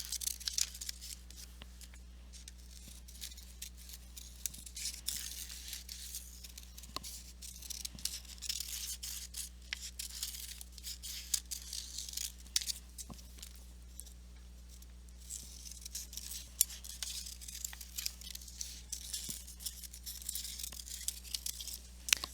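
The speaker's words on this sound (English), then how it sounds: "we have to cut out the shapes individually" Paper shapes being cut out one at a time with scissors, heard as faint, sparse crisp snips and rustles over a low steady hum in a quiet room.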